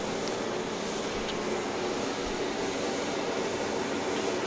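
A Boeing 737 Max 8 airliner arrives at Dallas Love Field at night, its engines a steady, broad, distant roar that holds level throughout with no voices.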